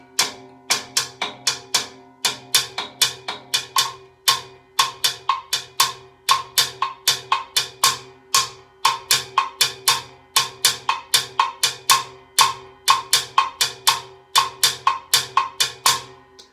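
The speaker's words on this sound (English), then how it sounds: "Now let's play it on the cascara." Sticks clicking a steady cascara pattern on the shell of a timbale, played by Dr. Juan Alamo: crisp, dry, closely spaced wooden taps in a repeating syncopated rhythm, loud and close, heard alone.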